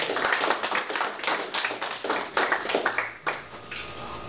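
Audience clapping at a community board meeting, a short burst of applause from a modest indoor crowd, fairly close and loud, tapering off after about four seconds.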